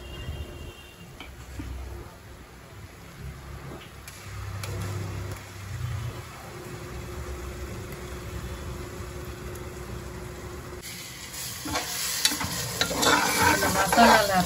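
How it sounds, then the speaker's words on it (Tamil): Masala paste and onions fry and sizzle steadily in hot oil with ghee for prawn biryani, with a spatula stirring and scraping throughout and the sizzle swelling louder near the end; no one speaks. "மசாலாவில் இருக்க பச்சை வாசனை போகிற அளவுக்கு இது எண்ணெயில் நல்லா வதக்கணும்."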